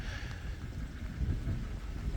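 Steady winter evening rain in the Netherlands patters under a dense wash of broadband noise with low rumbling gusts, continuous and close, with no voices.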